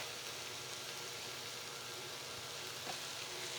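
Minced garlic, two cloves, sizzling in a pan of sweating vegetables for a savory vegetable cheese torte; a steady, even hiss of frying fills the whole stretch with no talking.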